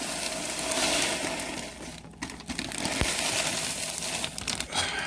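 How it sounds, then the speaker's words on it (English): Oats being dumped into a mash of hot water while brewing beer, a loud crumbling, rustling pour that runs for several seconds with a brief dip midway and one sharp knock. "Just go ahead and dump in the oats on top"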